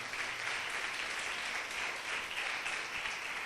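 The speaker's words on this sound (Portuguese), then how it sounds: "Dá um aplauso bem lindo ao Espírito Santo." A congregation at an evening church service applauds steadily, a dense wash of clapping at moderate loudness that holds even from start to finish with no voices above it.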